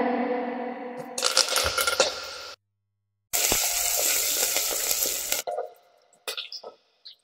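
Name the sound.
curry leaves sizzling as they are added to hot oil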